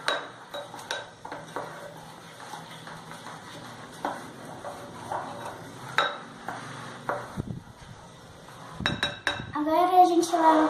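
A spoon scrapes and clinks against a bowl while stirring thick microwaved brigadeiro, giving irregular close scraping and tapping strokes with brief louder knocks near the end.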